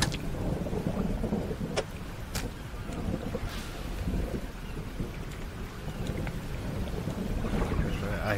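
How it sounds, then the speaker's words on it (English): Steady rain pours throughout while rumbling thunder rolls underneath, with a few sharp cracks standing out, in the video game Dredge; no voices. "Is that just lightning?"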